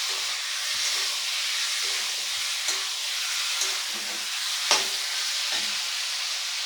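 Mutton fries in a pan and is stirred, giving a steady bright sizzle with scattered scraping clicks from the spatula close by, and no talk.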